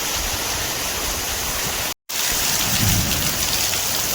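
Heavy monsoon rain pours down in a Konkan village in Maharashtra, a dense, loud, steady hiss with a brief cut midway.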